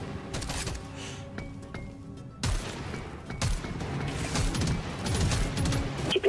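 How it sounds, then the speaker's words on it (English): Shotgun blasts in the sci-fi mining game Deep Rock Galactic: Survivor, a loud burst of chaotic gunfire and crashing impacts that starts suddenly partway through and keeps up densely to the end. "That shotgun shot, the shell just goes through a bunch of enemies."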